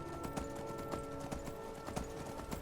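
In Skyrim, a horse's hooves clip-clop in a regular trotting rhythm, each sharp knock standing out over a low, steady ambient hum. No one talks.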